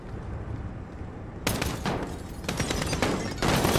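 Gunfire in Call of Duty Modern Warfare comes as a rapid fusillade of close, loud automatic bursts that start sharply and keep rattling in dense clusters over a low rumbling background.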